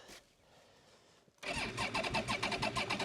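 A Polaris Sportsman 400 ATV engine cranks on choke in cold weather, with quiet clicks followed by a loud, rough, sputtering burst as it catches partway through.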